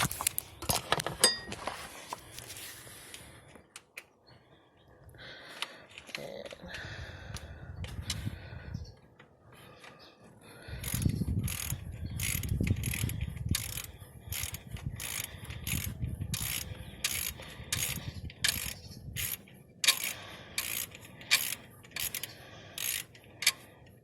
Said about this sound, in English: right now, I've got the tools where I'm taking off the pulley, the idler pulley.